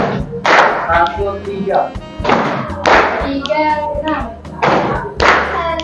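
A group of children claps in unison during a concentration counting game, sharp thudding claps in a steady repeating rhythm, with a voice counting aloud between them.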